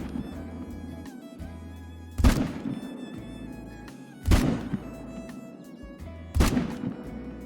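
A hunting rifle is fired three times in the Call of the Wild game while hunting whitetail deer, each shot a sharp, booming report with a rolling echo, spaced about two seconds apart over a low ambient hum.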